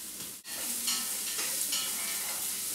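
Chopped carrots and celery cooking in a soup pot, giving a steady close sizzle with light stirring scrapes throughout, briefly broken by a short gap near the start.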